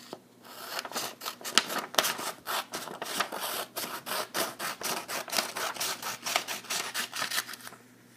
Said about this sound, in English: you're going to get your scissors and you're just going to cut that right down the middle